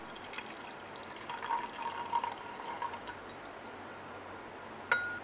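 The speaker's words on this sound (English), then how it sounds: "We'll add the 75 ml of concentrated hydrochloric acid." Concentrated hydrochloric acid poured into a 200 ml beaker set up for stirring, a soft continuous liquid trickle and splash heard close up, fairly quiet, with a brief clink near the end and no talking.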